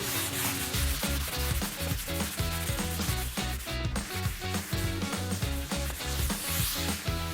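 A ceiling is hand sanded with 150-grit sandpaper: quick, even back-and-forth rasping strokes, close up and steady, with no pauses.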